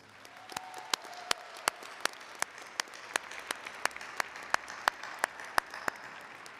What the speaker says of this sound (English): I think you all deserve a very loud round of applause.